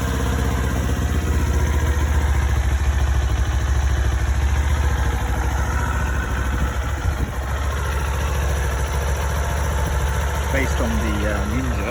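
A Kawasaki Z400 street fighter motorcycle fitted with a Musarri slip-on GP exhaust idles steadily and close, a continuous low throbbing engine note with no breaks.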